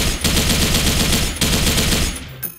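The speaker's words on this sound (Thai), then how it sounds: "โอเคเสียงเวลายิง" An RPK-74 light machine gun fitted with an EOTech sight fires in the shooter game Special Force 2, a loud, close, continuous automatic burst with one brief break, ending in a short tail.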